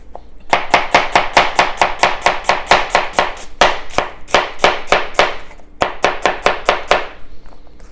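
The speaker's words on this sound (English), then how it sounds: "This time I'm just julienning this." Vegetables julienned with a knife on a cutting board, rapid rhythmic chopping in three quick bursts of crisp, loud, close taps.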